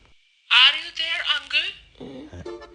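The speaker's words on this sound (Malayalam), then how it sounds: "പറഞ്ഞു കഴിഞ്ഞില്ല, ബംബ്ലിന്നൊരു മെസ്സേജ്" A Bumble dating app message notification chimes loudly and briefly on a phone, a bright tonal alert followed by a short trailing tone.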